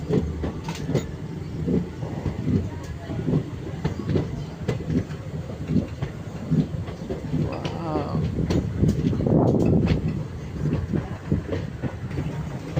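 A train rounds a curve while crossing a bridge, giving a continuous rumbling roll with rhythmic clickety-clack of the wheels and a brief squeal partway through, heard from on board with voices faintly in the mix.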